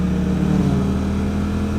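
A motorcycle engine drones steadily as it accelerates slowly out of a corner, a close, even mid-pitched hum with a gently rising tone and no voices.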